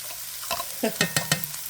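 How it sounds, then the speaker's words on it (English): Garlic sautés in a pan with a steady sizzle while a utensil gives several sharp, rhythmic taps and scrapes against the pan, close up. "I'm going to let this saute for about a minute real quick"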